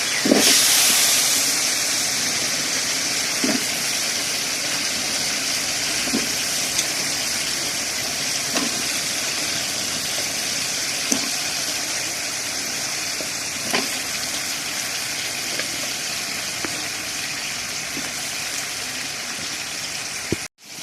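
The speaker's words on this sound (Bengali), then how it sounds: "এখন আমি কুমড়োটাকে মশলার সাথে ভালো করে মিশিয়ে কিছুক্ষণ ভেজে নেব।" Pumpkin pieces fry in a spice masala in a pan, giving a loud, dense, steady sizzle with faint periodic stirring knocks throughout, close up and with no talking.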